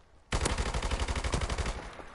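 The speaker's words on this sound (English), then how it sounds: "look like a kind of gun which should be a submachine gun" Submachine gun in Call of Duty MWR multiplayer firing one sustained rapid burst that starts abruptly and runs loud and close to the end, with no voices.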